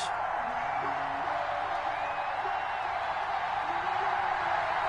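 Stadium crowd noise in an NFL football video game, Denver Broncos against Tennessee Titans in week 15, a steady, fairly faint wash of cheering and murmur that continues unbroken under light background ambience.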